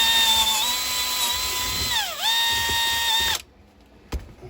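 Stihl MS 271 chainsaw muffler being drilled out with a slightly larger bit, a steady high-pitched drill whine that dips briefly in pitch under load, then stops abruptly, followed by a short faint click.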